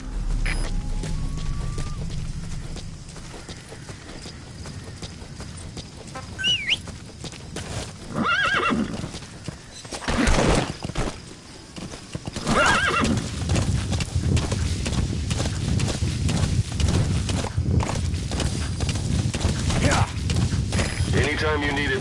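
A horse whinnies loudly and hooves clatter at a gallop in Metal Gear Solid V: The Phantom Pain, with game music and effects throughout and a voice speaking briefly.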